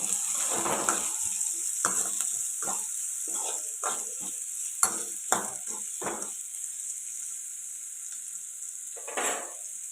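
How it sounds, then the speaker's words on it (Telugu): Curry leaves, onions and spices fry in oil for a chicken curry, a soft steady sizzle with intermittent stirring scrapes and taps from a spoon against the pan. "అలాగే కరివేపాకు ఇప్పుడు ఇవన్నీ ఫ్రై అవ్వాలి"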